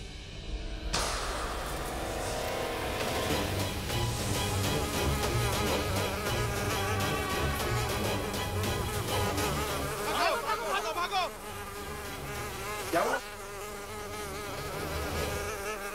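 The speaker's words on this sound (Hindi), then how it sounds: "मधुमक्खी आ गई, भागो भागो भागो।" A swarm of bees makes a loud, dense, droning buzz that runs almost throughout, with brief swells and a couple of sharp bursts standing out, and occasional voices faintly underneath.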